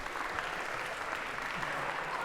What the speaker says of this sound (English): a round of applause, if we could, for our volunteers.